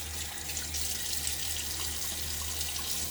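Tap water runs steadily from a faucet into a sink before a shave with a 1936 Gillette Aristocrat razor, a continuous close hiss over a low hum, no talking.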